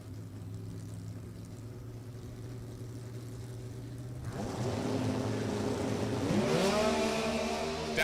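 Drag race cars, including an altered with a long inline six-cylinder engine, launch down the dragstrip at New England Dragway in an NHRA event: a steady low engine drone swells into a loud roaring surge with rising, sweeping engine tones.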